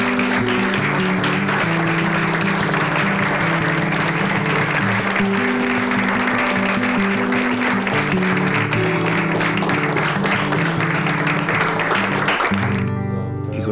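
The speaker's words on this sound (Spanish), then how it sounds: "Ahora sí, brindémosles un fuerte aplauso a Jeremías." An audience gives Jeremías a loud, sustained round of applause over steady musical tones, then the clapping cuts off sharply near the end.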